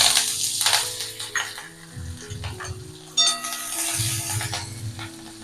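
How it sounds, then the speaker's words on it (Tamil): Mustard seeds and curry leaves crackle and sizzle in hot oil for South Indian tempering, a busy spitting frying sound with pops and spatters, and a few utensil clinks over a steady background tone. "எண்ணெய் காஞ்சிருத்து நம்ம தாளிச்சிடலாம்"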